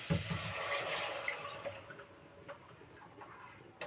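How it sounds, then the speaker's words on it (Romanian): Water pours into a cooking pot from a tap with a bright, hissing splash that gradually tapers into lighter trickling and a few drips. "Acum punem apă"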